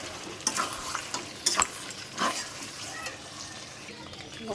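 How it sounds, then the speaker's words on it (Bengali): Chicken pieces fry with spices in a pan and are stirred, giving soft sizzling with intermittent scraping and clattering strokes at moderate volume. "এবার চিকেনটা দিয়ে নিলাম, ভালো করে কষিয়ে"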